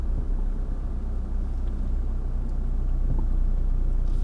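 Steady low rumble of a small car cruising along a road, heard from inside, an even engine and tyre drone with no talking.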